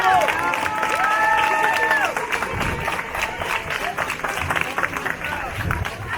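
Crowd applause at a neighbourhood festival in Valdegour, sustained clapping and cheering that fades slightly, with voices and some whistling over it.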